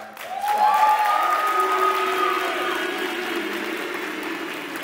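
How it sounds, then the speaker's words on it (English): An audience applauds in a hall for the drum major of the Spirit of San Antonio band. The clapping is a steady, moderately loud wash that fades slightly over time, with sustained tonal sounds rising above it early on. "So please, can we give one round of applause for him?"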